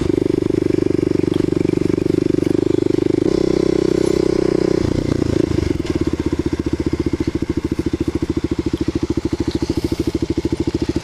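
A Kawasaki KLX250 supermoto engine drones steadily and loud while riding off-road through tall grass, its tone shifting midway as the throttle eases into a rough, pulsing lower rumble.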